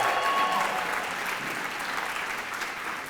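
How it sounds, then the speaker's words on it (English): Audience applause at a charity anniversary gala, a brief dense burst of clapping that is steady and fairly soft. "Do you want to give her a first round of applause?"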